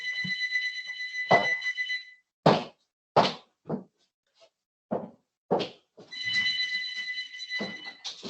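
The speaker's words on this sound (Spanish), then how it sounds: "Está sonando el teléfono." A mobile phone rings during a class lecture, its electronic tone sounding in two bursts with loud knocking or thumping sounds between them, close and clear with no talk over it.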